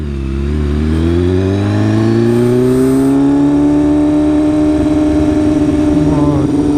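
A 2016 BMW S1000RR Premium sport bike with an SC Project exhaust and quick shifter pulls away, its loud engine note climbing smoothly in pitch as it accelerates, followed by a rough, steady roar while riding.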